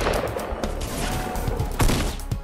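Rapid bursts of gunfire from the video game Fortnite crackle through a busy, dense mix, with sharper shots standing out near the end over a steady clatter of game sound.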